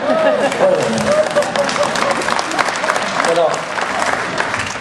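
A large crowd at a political speech bursts into loud, sustained applause mixed with cheering and crowd noise, dense and close throughout, with a voice briefly audible within it.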